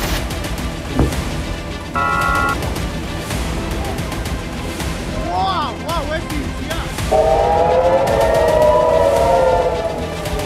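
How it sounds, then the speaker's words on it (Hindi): Red alert air raid sirens wailing across northern Israel during Hezbollah rocket attacks, a rising and falling tone that swells louder and sustains in the second half over a busy background, with talk faintly mixed in. "हिजबुल्लाह के हमलों से इजराइल में रेड अलर्ट के सायरन गूंजने लगे।"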